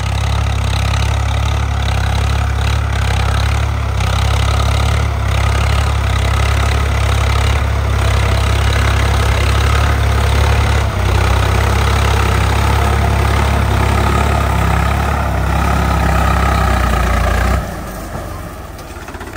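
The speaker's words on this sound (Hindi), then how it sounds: "पीछे हमारा ट्रैक्टर आ रहा है और उसकी आवाज़ सुनो" A Swaraj 855 FE tractor fitted with a 9-tine cultivator runs nearby, its engine a loud, steady, low diesel throb held at constant speed that drops off abruptly near the end.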